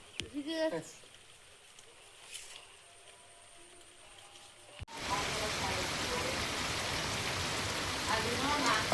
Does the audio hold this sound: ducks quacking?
no